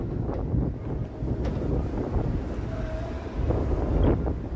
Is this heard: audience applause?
no